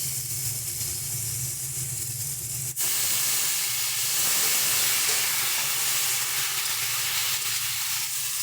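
Water poured into a hot pan of potato and eggplant curry with dried churi fish bursts into a loud, broad hiss that holds steady for several seconds.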